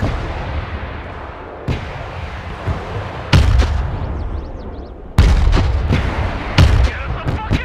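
PZH-2000 self-propelled howitzers fire in the Broken Arrow video game, several sharp heavy booms landing at irregular intervals over a rumbling battlefield bed, loud and close.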